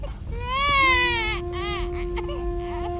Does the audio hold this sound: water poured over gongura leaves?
no